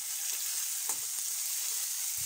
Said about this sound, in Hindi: तो यहाँ पे तेल गरम हो चुका है तो मैं इसमें प्याज ऐड कर रही हूँ।